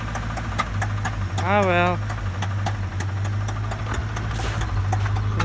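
Engine running rough with a bad miss, idling unevenly while stuck in mud, a steady low droning hum throughout, with someone speaking briefly over it.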